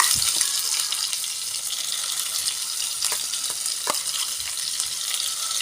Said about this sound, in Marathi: आणि वाटण छान परतून घ्यायचं आहे आपल्याला तेलामध्ये